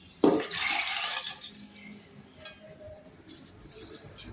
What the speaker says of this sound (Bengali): এবার আমি এর মধ্যে সেদ্ধ করে রাখা মুগটা দিয়ে দিচ্ছি।